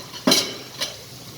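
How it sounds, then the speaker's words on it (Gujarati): A metal spoon stirs spices into a potato mixture in a pan, making two quick scraping clinks close up, the first louder than the second. "હવે પહેલાં આપણે આને હલાવી દઈશું"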